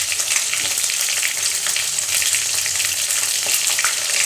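Split green chillies hit hot oil in a frying pan, giving a loud, steady, close crackling sizzle with fine popping throughout and no talk.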